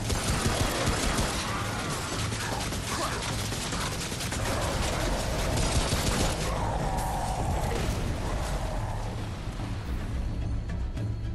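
Sustained rapid mechanical gunfire from a turret in the game Remnant: From The Ash, a dense clattering rattle running continuously at close range with crashing impacts mixed in and no clear talk over it.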